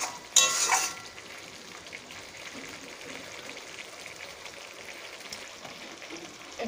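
Chili chicken masala frying in oil after long cooking, with sugar just added, the oil separating from the spices: a sharp loud sizzle burst at the start, then a steady close crackling hiss with no talking.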